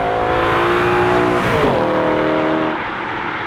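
An E92 BMW M3 engine revs hard while driven fast, a loud, close, sustained howl with a rising and falling pitch sweep before easing off slightly at the end.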